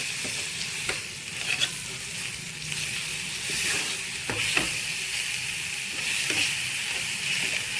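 A spiced mixture with chili powder and salt sizzles and fries in a pan for Mughlai paratha filling, with a constant hiss broken by occasional scrapes of a spoon as it is stirred.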